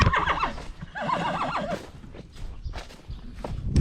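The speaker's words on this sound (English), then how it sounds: "I'm gonna let the horses in here and let them eat it down." Horses on a dairy farm being let into a weedy pasture, two loud quavering whinnies close by followed by softer snorts and scattered hoof clops, with no talk.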